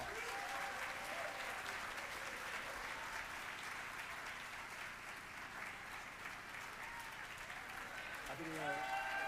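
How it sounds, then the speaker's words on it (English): A crowd at an awards celebration applauds steadily throughout, dense continuous clapping at even loudness, with a few voices rising near the end. "Let's give Mr. Adam Reed a round of applause."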